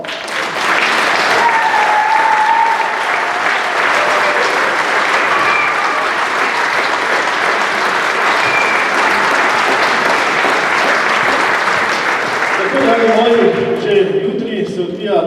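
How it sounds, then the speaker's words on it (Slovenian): Loud, sustained applause fills a hall at a charity concert in Gorje, a dense wash of clapping from a large audience that fades near the end as voices and music begin. "Zato mislim, da je čas za en velik aplavz."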